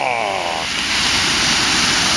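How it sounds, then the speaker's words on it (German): Heavy waves on Lake Constance (Bodensee) wash onto the shore in a loud, dense rushing noise that swells steadily, with a brief voice at the very start. "Ach, das Wellenrauschen gerade."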